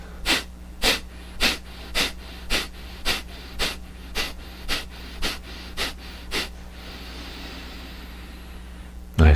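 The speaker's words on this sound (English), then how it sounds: "it's simply a forced exhalation through the nose and then letting the stomach relax forward" Kapalabhati breathing, a dozen sharp forced exhalations through the nose in a steady rhythm about every half second, close and clear, then a quieter stretch ending in a soft inhale.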